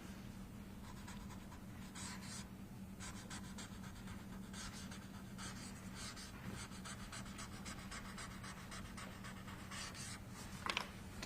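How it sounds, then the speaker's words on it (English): A Sharpie marker scratches across paper in repeated bursts of writing strokes over a steady low hum, fairly close and continuous. "I love the sound of that Sharpie hitting that paper"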